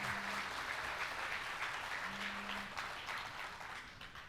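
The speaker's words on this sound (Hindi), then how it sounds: "ज़ोरदार तालियों से एक बार" Sustained applause from a mushaira audience fills the room, steady and dense throughout, with a faint tonal hum in the background and no talking.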